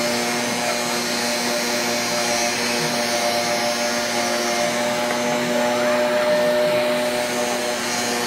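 A small child runs a household vacuum cleaner across the floor, giving a loud, continuous motor whine that holds steady throughout with no talking.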